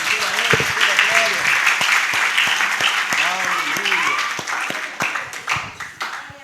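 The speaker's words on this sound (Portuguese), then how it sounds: "Vamos dar uma salve de palmas ao Senhor Jesus Cristo, que é digno" A church congregation applauds together in a loud, sustained round of clapping that carries on throughout, with a voice speaking over it and the claps thinning slightly toward the end.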